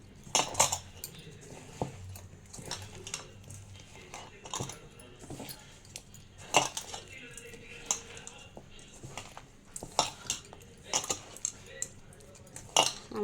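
Peeled garlic cloves being mixed into a pickle with a spoon, producing repeated scraping clinks and taps against the vessel in an irregular rhythm, with some faint background sound.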